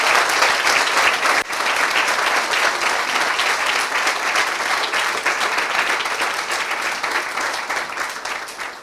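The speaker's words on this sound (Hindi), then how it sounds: "आइए खुदावन के लिए जोरदार ताली बजाएंगे।" Loud, sustained applause from a congregation at a Christian gathering, dense and even throughout, with no voices standing out.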